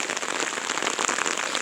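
Heavy rain falls during a thunderstorm walk outdoors, a loud, dense, steady hiss of drops pattering close on surfaces with no break and no voices.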